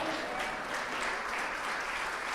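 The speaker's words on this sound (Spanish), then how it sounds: "Las mujeres aplauden, los hombres no." Women in a church congregation applaud together, a dense continuous clapping that stays steady and fairly close for the whole stretch, with no voices on top.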